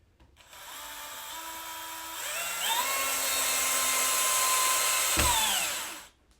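A screw being driven into a molly fitted on an aluminum rod for a chick brooder assembly, heard as a close, sustained whirring tool tone that rises in pitch, holds steady for a few seconds, then winds down, with no talking.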